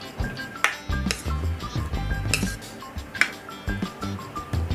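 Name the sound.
spoon mixing cucumber raita with yogurt and onion in a bowl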